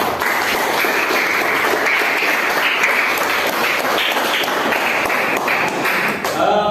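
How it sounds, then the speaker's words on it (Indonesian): A classroom audience applauds a student group after their presentation, a steady, dense burst of hand clapping from many people that runs the whole time, fairly close and loud. "Beri aplaus dulu untuk kelompok 1."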